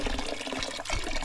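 Water gushes from a faucet on a farm, a loud, close, continuous splashing flow with no talk.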